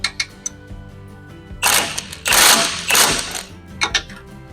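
An open-end 5/8 inch wrench ratchets on bolts at a Tie-Grabber baler knotter, giving scattered light clicks and then several loud bursts of metallic ratcheting, close and with no talk.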